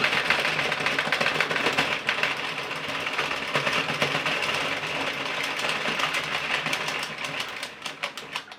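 An Addi Express knitting machine is cranked by hand to knit a twisted headband, giving off a steady, close mechanical clatter of rapid ticking and whirring that runs the whole time with no pause.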